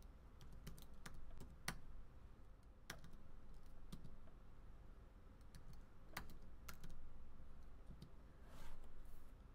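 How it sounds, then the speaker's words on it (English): Computer keyboard keys tapped in irregular bursts while a passphrase is entered, crisp clicks spaced unevenly over a low steady background hum, fairly quiet and close, no voices. "Then I type in the next word and continue."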